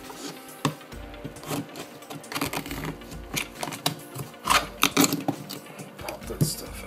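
A coconut shell being cut by hand, with irregular sharp clicking and snapping cracks in quick uneven clusters, close and moderately quiet.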